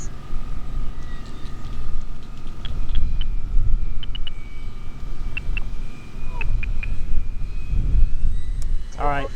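Dynam Tucano RC model airplane on its landing approach with flaps down, its electric motor whine audible under steady outdoor wind rumble, with faint tonal buzzes coming and going.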